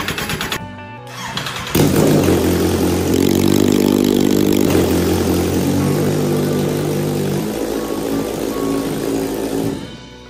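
A rust-covered Kawasaki Z1000 motorcycle with a damaged engine case cranks briefly, catches and roars to life, then settles into a loud, steady idle close by, with a slight drop near the end.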